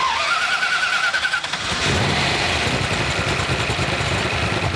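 A one-time economy car rebuilt with a racing cam idles loudly and roughly, running with a lumpy, uneven throb that holds constant throughout.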